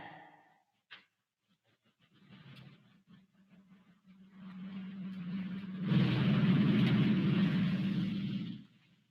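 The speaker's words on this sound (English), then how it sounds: "some cars go by and it messes with my reception" Cars driving past outdoors: a low rumbling roar builds gradually, swells loudest near the end as vehicles pass close by, then cuts off, after a few faint knocks early on.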